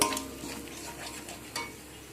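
Peas, cabbage and lentil paste being stirred in a pan, a spoon scraping and clinking against the metal in short irregular strokes close by, with a faint sizzle underneath and no talking.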